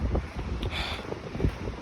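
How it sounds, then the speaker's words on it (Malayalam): Strong wind gusting on the Everest Base Camp trek in Nepal, a steady broadband roar with buffeting against the microphone and a brief brighter gust midway, no voices. "ഗംഭീര കാറ്റാണ് നമ്മ കാറ്റ്"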